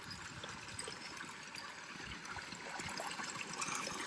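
Water runs steadily from a tap or pipe, a close, continuous trickling and gushing stream with a faint rise in flow toward the end and no voices.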